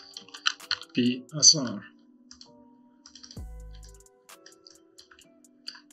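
Quick bursts of key presses on a computer keyboard click close by while a person talks over them, ending with a few isolated taps.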